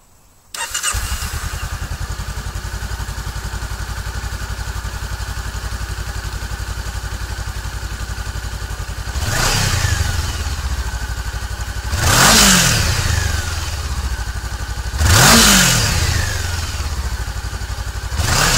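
Honda CBR500R motorcycle engine cranking and catching, settling into a steady idle, then three sharp revs up to about 7000 RPM at roughly three-second intervals, loud and close with no voices.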